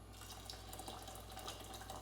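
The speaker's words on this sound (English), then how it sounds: "Simply fill up with a boiling hot kettle." Boiling water poured from a kettle onto rice topped with a bay leaf in a pot, for a lamb curry, a steady continuous splashing pour close by with no talk.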